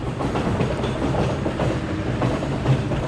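Loud, steady rumbling and rattling of a mine train roller coaster car rolling along its track at Hersheypark, a constant mechanical roar with faint rhythmic clacking.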